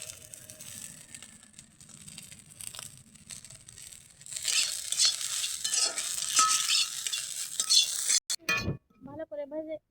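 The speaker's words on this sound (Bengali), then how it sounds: "আমার শুটকি চিংড়ি কিন্তু সুন্দর করে লাল লাল করে ভাজা হয়ে গেছে" Dried shrimp and mustard flowers fry in a pan. A quiet sizzle swells into a louder, hissing fry with stirring scrapes, then cuts off near the end.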